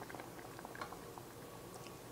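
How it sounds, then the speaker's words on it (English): Chai tea simmers and boils in a pot, a faint, soft bubbling with irregular small pops and gurgles that continues steadily throughout. "my tea is boiling and it's starting to get a really nice color"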